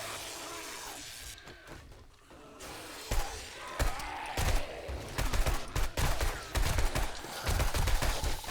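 A turret in 7 Days to Die fires a rapid string of sharp, punchy shots in the game, loud and irregular after a quieter start.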